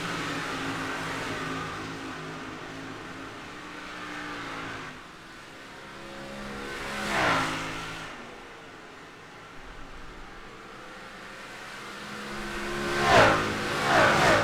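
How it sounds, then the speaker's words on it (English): Dirt track race cars roar around the oval as engines drone steadily and swell twice when cars sweep past nearby, with no talking over the racing. "That 10 car ripping the outside."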